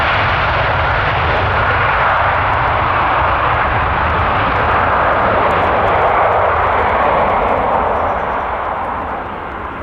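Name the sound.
jet aircraft engine at Stansted Airport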